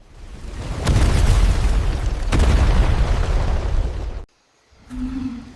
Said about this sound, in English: Dodging the flames, Kibo launches a barrage of explosive energy spheres.